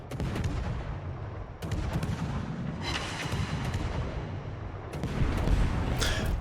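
Warship guns firing in the video game World of Warships, with sharp booming salvos breaking in at intervals over a constant loud rumble of battle.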